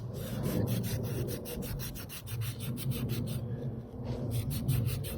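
Steady abrasive rubbing around the brake caliper piston of a TNT 125 motorcycle during rear brake work, a continuous close scrubbing with rapid back-and-forth strokes and no pauses.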